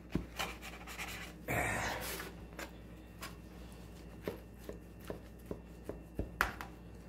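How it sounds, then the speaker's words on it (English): A knife cuts through a tray of baked butterburger sliders, making a soft rasping slice followed by scattered light taps and clicks of the blade against the board, close and quiet. "I'm going to cut them in half right where they belong"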